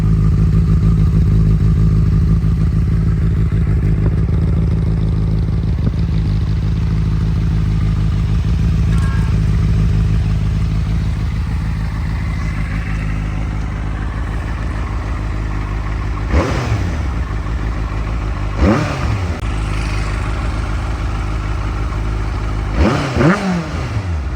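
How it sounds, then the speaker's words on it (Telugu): A Benelli TNT 600i inline-four motorcycle with a barrel exhaust and dB killer idles with a steady low rumble, then gives several short, sharp revs near the end. "With DB killer barrel exhaust."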